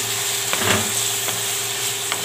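Wild melon (kachri) and potato sabzi sizzling in a pan with turmeric, a steady close frying hiss with a few faint clinks of stirring.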